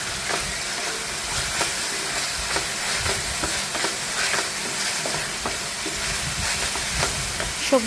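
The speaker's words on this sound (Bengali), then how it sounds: "সবজিগুলো দিয়ে আমি সতে করতে থাকবো।" Mixed vegetables sautéed in a pan for a Chinese-style dish with soy, fish and oyster sauces, giving a steady close sizzle and repeated scraping stirs at a regular rhythm.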